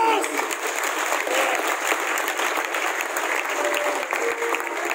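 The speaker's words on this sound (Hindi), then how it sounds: "एक बार जोरदार तालियां" Loud, sustained applause from an audience at a product presentation on aloe vera, dense clapping filling the whole stretch, thin and bright in tone, with crowd noise mixed into it.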